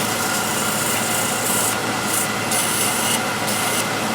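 Steady, close rubbing of 360 grit sandpaper against a wooden woodturning piece, a continuous rasping hiss over a low lathe hum, with no pauses across the stretch.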